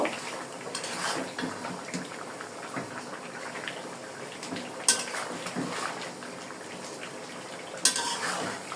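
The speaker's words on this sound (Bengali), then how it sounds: "এখন আমি ভালো করে কষিয়ে নেব।" Spices for Bangladeshi morog polao sautéed and stirred in a pot: soft sizzling under scraping and clinking of a spoon against metal, with two sharper knocks partway through.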